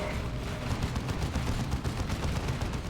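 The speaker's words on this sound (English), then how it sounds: "Looters shooting at a node." Ork Looters open fire on a node in the Dawn of War 2 strategy game. Dense, continuous rattling gunfire fills the whole stretch with rapid overlapping shots and no pauses.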